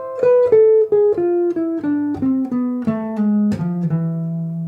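A clean guitar plays a descending scale, single plucked notes stepping down one after another at an even pace, ending on a lower sustained note.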